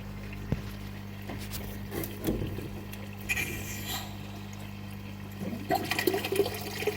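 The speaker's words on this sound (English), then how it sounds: "Okay, turning on pump again." Water rushes and gurgles through an aquarium system as a pump runs, with a steady motor hum underneath and occasional louder splashes.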